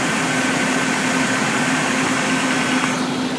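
A 1974 Sears Suburban SS16 garden tractor engine runs steadily at a constant idle with dry lifter noise, giving a close, even mechanical hum with a fine ticking texture and no speech.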